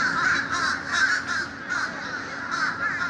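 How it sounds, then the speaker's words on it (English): Several crows caw outdoors in repeated harsh bursts, close and fairly loud, with no talking. "Birds are going nuts out here today."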